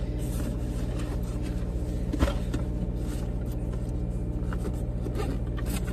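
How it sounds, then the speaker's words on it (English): Idling car engine warming up on a cold, dark morning, a steady low rumble with even harmonic hum throughout and one brief small click near the middle, close by with no talk. "I'm warming up my car"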